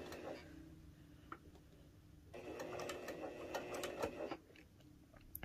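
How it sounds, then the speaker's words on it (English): Janome HD9 sewing machine stitching slowly and then backstitching, a faint rhythmic mechanical whir with soft ticks, starting after a brief pause and running for a couple of seconds. "Let's drop this needle. Let's sew a little bit"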